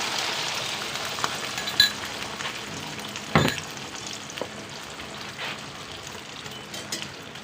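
Food sizzles steadily in a hot pan, with occasional clinks of a utensil stirring against the metal.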